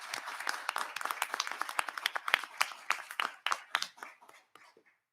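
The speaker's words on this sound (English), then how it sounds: "Please join me now in a round of applause for them and for our moderator." A smaller audience at a faculty panel applauds with distinct, sparse claps that thin out and trail off one by one toward the end.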